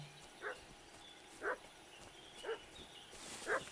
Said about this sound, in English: Рябко, чого ти гавкаєш?